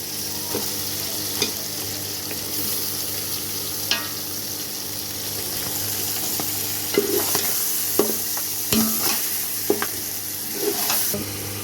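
Large chicken pieces fry in a pan for a traditional Sobat dish, a continuous close sizzle punctuated by repeated scraping and knocking as a spoon stirs them, heavier clatters coming in the second half.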